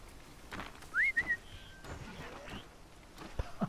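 Whistling in the video game Horizon Zero Dawn, used during a hunt: a short, bright rising-and-falling whistle around the one-second mark, fairly clear over quiet game ambience with faint footsteps.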